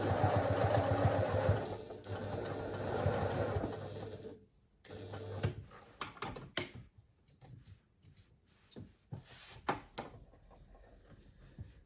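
Sewing machine stitching a fabric pouch, a steady close whir for a few seconds that pauses and gives way to scattered clicks, handling knocks and brief short runs of the machine.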